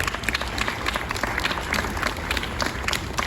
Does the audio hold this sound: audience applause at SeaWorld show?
yes